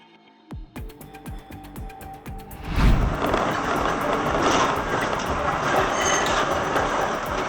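A train rolls through a level crossing: sharp warning-bell clangs ring at first, then a loud rushing rumble with clattering wheels swells in and holds steady to the end.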